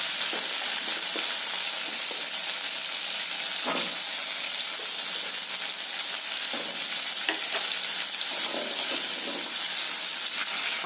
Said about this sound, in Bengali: এই তেলে আমি আলুগুলো ভেজে নেব, আলুগুলো একটু লাল লাল করে ভেজে নেব।